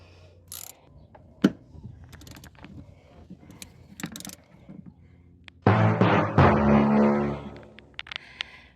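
A ratchet wrench clicks in short bursts while bolts are loosened from the third-row seat of a car, followed by a louder sustained stretch of ratcheting and metallic rattling near the end.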